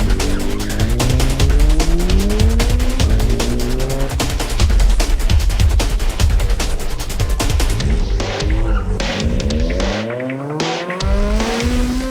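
Race cars at a Philippine autocross championship round, engines revving and rising in pitch through gear changes with tire squeal, loud and sustained, and a car passing and fading near the end.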